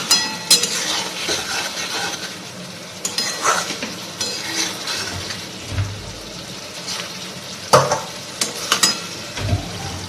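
Spice paste for a koi fish curry with coconut milk and taro sautés in a pan, giving a steady loud sizzle broken by spatula scrapes and occasional clanks against the pan.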